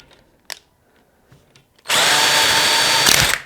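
A Hychika 18V 350Nm cordless impact wrench unscrews a nut, starting after a few faint clicks with a sudden loud, steady buzzing whir that runs about a second and a half before stopping, close and alone.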